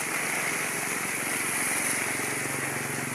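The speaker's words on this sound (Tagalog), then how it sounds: "umapaw na sa dike ng ilog" A river in flood overflows its dike during heavy rain, making a loud, continuous rushing and roaring wash of water with no break.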